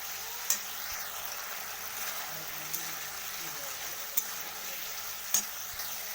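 Egg curry masala, seasoned with Kashmiri chilli powder, is stir-fried in a pan as a steady hiss of frying runs throughout, broken by a few sharp clinks of the spatula against the pan.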